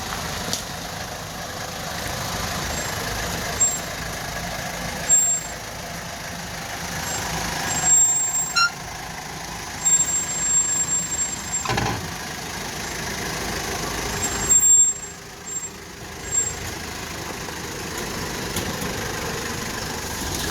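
A vehicle engine rumbles and idles steadily while creeping down a steep little embankment toward a rocky beach at Gunn Point, with occasional knocks and bumps over the loose ground and no talking.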